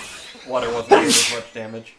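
A single sharp, breathy sneeze sits in the middle of the Kirby Star Allies game, loud and close, with a voice talking just before and after it.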